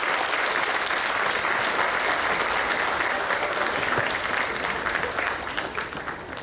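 A seated audience at an event claps in a dense, sustained round of applause that holds steady and then begins to thin and fade toward the end.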